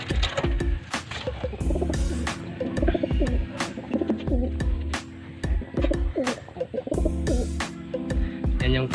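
A pigeon coos repeatedly in a close, steady rhythm, with sharp clicks and fluttery bursts between calls.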